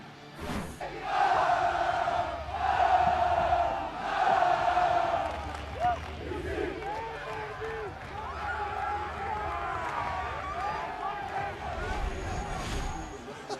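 A large Cincinnati football stadium crowd roars through its pregame cheer before a rivalry game against Louisville, swelling chants and shouts in waves, then a broad sustained hubbub of thousands of voices.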